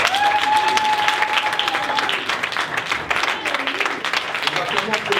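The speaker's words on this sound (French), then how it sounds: "Il mérite nos acclamations." A church congregation claps and cheers during a French-language worship service, sustained applause with shouts over it, while a voice leads the crowd.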